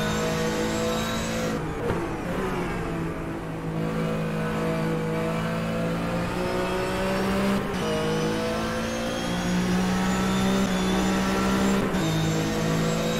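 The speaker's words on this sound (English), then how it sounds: "This car sound fantastic." Engine of a classic Porsche Cup race car in a racing simulator, a loud continuous roar with rising revs through the gears and brief dips at the shifts, steady and close throughout with no talking.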